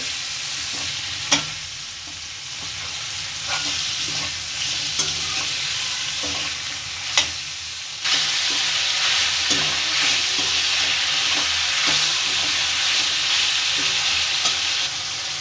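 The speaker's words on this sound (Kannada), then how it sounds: "ಹಾಕೊಂಡು ಇದನ್ನು ಕ್ಲೀನಾಗಿ ಫ್ರೈ ಮಾಡ್ಕೋಬೇಕು." Onion, tomato and capsicum fry in a pan: a steady, loud, close sizzle runs throughout, broken by occasional scraping stir clicks, with no talking.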